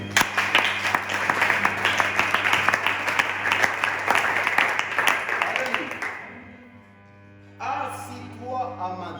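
Church congregation applauding and clapping steadily for about six seconds, a dense sustained wash of hands, then fading out before a voice and music resume.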